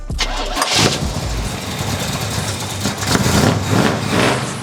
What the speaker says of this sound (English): We're gonna fire it up for the first time and see how it runs.